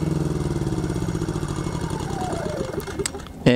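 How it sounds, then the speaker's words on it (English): An EcoFlow dual fuel smart generator's engine runs with a steady mid-pitched drone, then winds down and fades as it is switched off, ending with a sharp click or thud close by. "you can actually swipe this to turn the engine off,"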